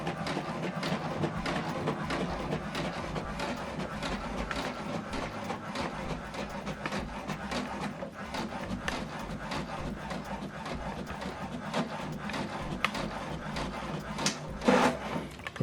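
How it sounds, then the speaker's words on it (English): An HP Deskjet 2800 all-in-one printer printing a document, a continuous close mechanical whirring and rattling with small repeated clicks of the paper feed and print head, ending in a brief louder clatter. "You see it's printing."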